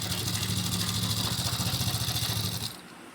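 Domestic sewing machine stitching cotton fabric for a men's underwear garment, a steady rapid mechanical whirr with fine rhythmic ticking running continuously for over two seconds, then stopping abruptly.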